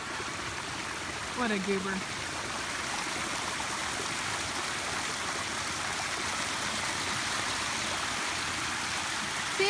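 A waterfall two houses away rushes in a steady, soft, even roar throughout, with a person speaking briefly over it near the start.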